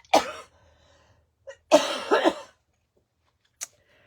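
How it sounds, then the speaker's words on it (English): Several sharp, separate coughs in a brief fit, close and fairly loud with quiet gaps between them, and no other sound around them. "Just having a big old coughing fit."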